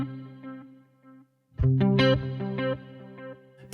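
Electric guitar through an Axe-Fx with a panning delay and chorus summed to mono: a few soft picked notes, a pause, then louder strummed chords with even, steady echo repeats trailing off.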